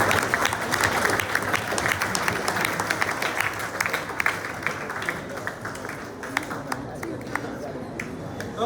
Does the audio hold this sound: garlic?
no